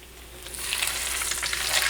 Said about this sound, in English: You'll hear a slight sizzle, but don't worry about that.